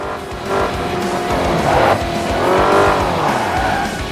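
Car in the Xbox 360 driving game Crash Time 5: Undercover braking hard, with loud tire squeal and skidding over a roaring engine, the screech rising and bending in pitch as the vehicle slides, close and continuous with no talking.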